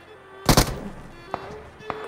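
Gunfire in an online shooter game as bots are shot: a loud close burst of rapid shots, then two single sharp reports a moment apart, with faint background game noise.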